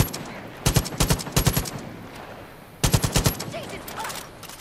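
Automatic gunfire in Far Cry 5, fired at a bear, comes in two rapid bursts of sharp, loud shots with a quiet pause between them.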